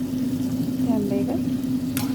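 Tempered prawns with garlic being stirred and fried in a pan, a steady close sizzle with a few scraping stirs of the spoon and a sharp clack near the end.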